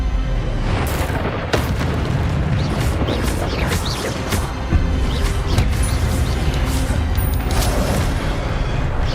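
The Expelliarmus spell cast in the Hogwarts Legacy video game, a dense, loud run of booming magical blasts and crashing impacts over steady combat clamor, continuous throughout with sharp bursts layered on top.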